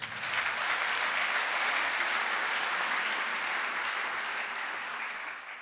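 A church congregation applauding during a worship service, a dense, loud, sustained wash of clapping from many hands that holds steady and then tapers slightly at the end.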